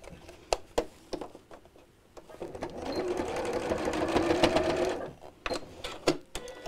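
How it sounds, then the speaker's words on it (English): A sewing machine stitches straight across the end of a piece of fabric, a steady whirring run of about three seconds framed by scattered clicks and handling noises. "I'm going to sew straight across the end here"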